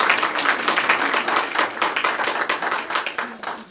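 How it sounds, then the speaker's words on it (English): The audience at a school business board meeting claps for students of the month, a steady round of many hands clapping nearby that fades slightly toward the end. "Oh, can we clap?"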